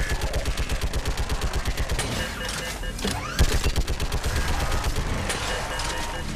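Sustained rapid gunfire in the Mass Effect 3 video game rattles in fast, evenly spaced shots, loud and close, with a brief break midway before the stream resumes, against a busy background of battle noise.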